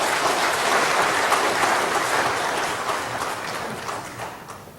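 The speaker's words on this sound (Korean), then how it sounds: "박수로 환영하겠습니다." A church congregation applauds to welcome a returning missionary, a dense, steady wash of many hands clapping together that holds strong and then slowly thins and fades, with no voices over it.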